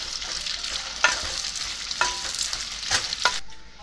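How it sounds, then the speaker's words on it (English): A spatula stirs sweet potatoes cooking in a pan, giving about four distinct scraping strokes over a soft, steady sizzle, close and moderately loud, with no speech. "Keep on stirring in between and let them cook for 10 to 12 minutes."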